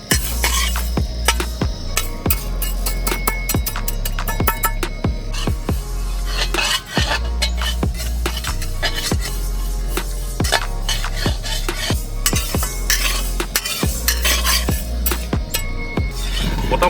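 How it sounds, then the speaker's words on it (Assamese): Black lentils are dry-fried and stirred in a hot kadai outdoors, with a rapid series of sharp metallic scrapes and clinks of a spatula against the pan over a constant sizzling bed, close and loud. "এতিয়া আমি মাহৰ দালিখিনি ভাজি ল'ম"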